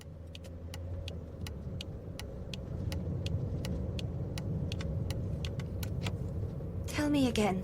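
A car drives along with a steady low engine and road rumble, a regular ticking running over it throughout, and a brief rising whine near the end; a voice speaks at one point.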